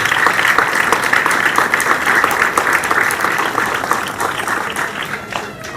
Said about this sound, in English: let's give another round of applause for Congressman Al Green.